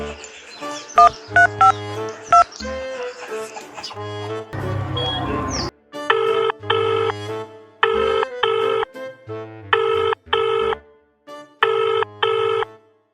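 A phone rings in repeated paired bursts, each ring loud and regular with short gaps between, after a stretch of mixed tones and brief button-like beeps at the start; a voice is heard faintly early on.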